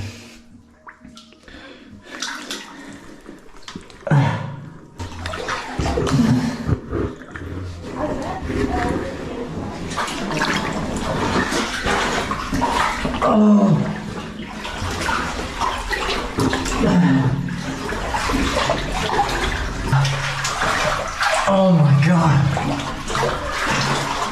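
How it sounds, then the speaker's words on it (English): Water flowing and splashing through a narrow flooded cave tunnel, a continuous close rushing and sloshing with scattered splashes, heard under a man's breathing and occasional exclaimed speech. "The water's getting deeper."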